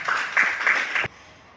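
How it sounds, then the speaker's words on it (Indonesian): A classroom of students bursts into about a second of applause for the pro side of a debate. The quick, close clapping comes in a few surges, then cuts off sharply into quiet room tone. "beri tepuk tangan untuk kelompok pro ya, beri tepuk tangannya"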